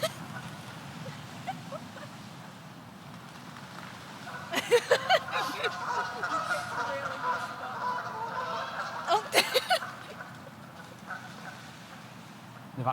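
Geese in a fierce fight honk loudly in repeated bursts over a low background murmur, with the loudest clusters coming in the middle.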